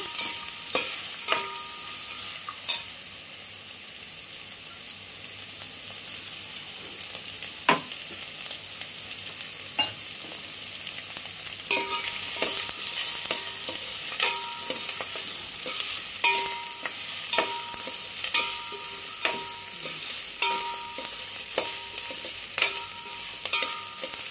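Onions, green chillies and ginger paste frying in oil for oats khichdi, a steady sizzle throughout, punctuated by frequent clinks and scrapes of a spoon stirring against the pan, with no voices.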